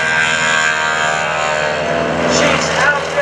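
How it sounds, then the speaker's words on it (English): Super Stearman biplane radial engine at high power on the takeoff roll at a lake airshow, a loud steady droning roar, with an announcer talking over it. "Here we go, on the takeoff roll."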